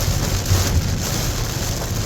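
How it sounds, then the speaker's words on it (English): Heavy rain during a flash flooding event in central Iowa, a dense, steady hiss of downpour with low rumbling underneath, no talking. "More of this. Like, this town needs more rain."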